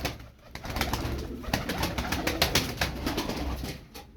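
Turkish tumbler play pigeons close by, with a rapid run of fluttering wing claps and flapping bursts and soft cooing underneath, moderately loud.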